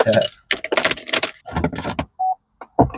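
Car keys jingle and click in the ignition of a Camaro, a close metallic jangle and a short chime tone, with someone talking over it.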